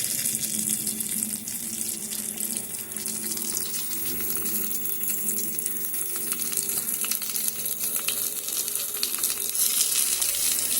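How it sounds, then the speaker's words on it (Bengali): Stuffed flat beans fry in hot oil, giving a loud, steady sizzle with bubbling crackle that runs continuously throughout, with no voices. "আর যে বাকি শিমগুলো ছিল সেগুলো আমি এইভাবে ভেজে"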